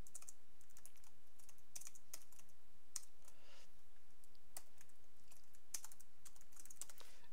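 Steady, fairly quiet typing of code on a computer keyboard, with continuous light key clicks and occasional sharper taps throughout.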